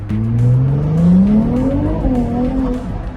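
A modern luxury car's engine revs up steadily under acceleration, the tone climbing smoothly, then dropping briefly at a shift before pulling again, heard close and loud from inside the cabin.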